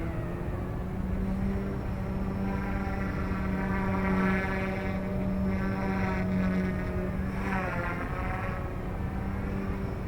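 An Eachine E120s RC helicopter flies in idle-up mode, giving a continuous buzzing motor and rotor whine that holds steady in pitch with slight wavering. Its level stays fairly even, as if at moderate distance.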